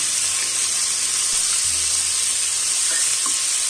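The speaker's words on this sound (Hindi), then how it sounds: "अब इस स्टेज पे हम इसमें डालेंगे टमाटर जो लाल होना चाहिए जूसी होना चाहिए" Steady, loud sizzling of onions and tomatoes frying in a pan, a continuous hiss of hot oil with faint stirring, no voices.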